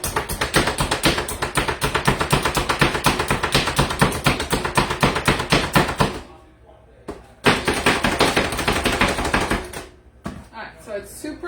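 Rapid, steady chopping taps of a tool mincing food finely on a board for a butternut squash risotto, loud and close, with a couple of short pauses and the rhythm resuming.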